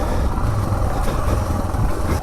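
Suzuki DR650 with a 14-tooth sprocket engine braking downhill on a trail, a rough, rumbling low engine note close by, steady for a couple of seconds.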